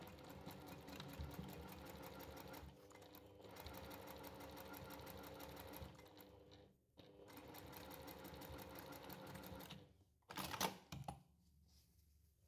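A sewing machine stitches the two long edges of a boxy fabric bag at a 2.5 stitch length, running in steady whirring bursts with brief pauses between them and a short clatter near the end, with no talk.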